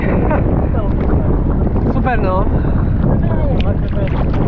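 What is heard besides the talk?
wind and waves at a beach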